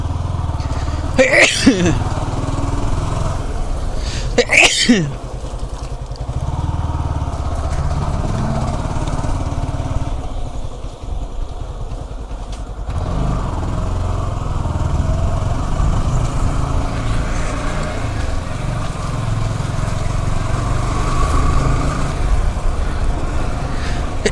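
Yamaha R15M motorcycle on a short ride, a steady engine drone throughout with two quick rising-falling revs early on, fairly close and loud, with a faint voice now and then.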